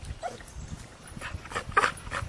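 Dogs in a Carolina game dog kennel, including a roughly ten-month-old pup, giving a few short yips and whimpers at moderate distance over background rustling.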